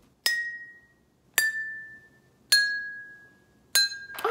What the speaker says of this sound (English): So, Marcus, there are gonna be four glasses. And each glass is gonna have a different amount of water in it to create a different pitch